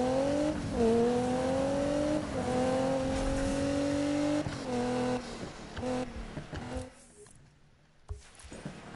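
A 971-horsepower car in Need for Speed revs hard through rising and falling gear shifts, loud and close, then drops away near the end.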